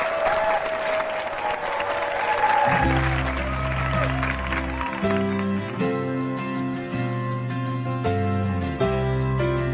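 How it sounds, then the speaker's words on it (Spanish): Audience applause for a singing duo on stage, a loud clapping crowd that continues as a music track with a steady beat starts up beneath it. "Así que el aplauso es doble para Luna y Mateo."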